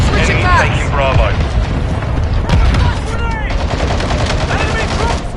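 Mortar strike explosions and rapid gunfire in the video game Call of Duty Modern Warfare 2, loud continuous booms and bursts of shots with shouted voices cutting through the battle.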